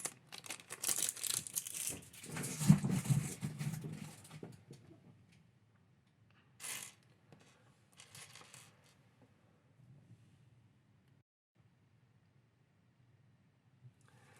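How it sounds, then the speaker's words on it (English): A small plastic bag of Lego pieces being crinkled and torn open, a dense rustling burst for about four seconds, then a few scattered crinkles and light clicks of pieces with long quiet gaps. "Let's open the small little plastic bag."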